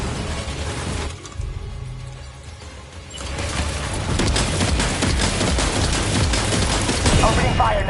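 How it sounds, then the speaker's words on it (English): Sustained gunfire and mechanical clatter rise to a loud, dense barrage in Death Stranding 2, with heavy rumbling firing that dips briefly before swelling again. "Opening fire now."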